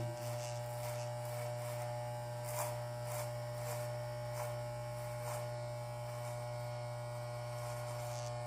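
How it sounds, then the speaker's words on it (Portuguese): An electric hair clipper with no guard, lever fully up, cuts hair in a continuous close-up buzzing hum, broken by regular faint crisp ticks as the blades pass through the hair. "eu vou fazer o resto do corte utilizando a minha máquina no pente zero, sem nada, com a alavanca totalmente para cima"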